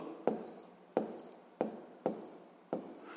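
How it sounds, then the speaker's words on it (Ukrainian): Pen or pencil writing by hand during a sixth-grade maths exercise, five short scratchy strokes or word bursts spaced about half a second to a second apart, close and quiet with no talking. "Ну що ж, записуємо тоді третя дія."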